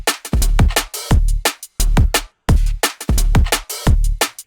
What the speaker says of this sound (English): what I've done is I've just got a cool open hi-hat sample